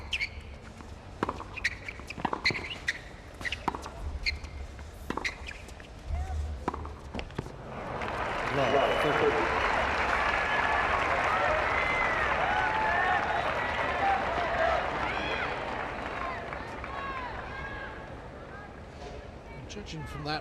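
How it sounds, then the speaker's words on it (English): At a tennis match in Cincinnati in 2000, scattered claps and footsteps give way to a swelling wave of crowd applause and cheering for Henman that holds loud and sustained, with a commentator speaking over it. "Judging from that reaction, a lot of the crowd urging Henman to get right back into this match."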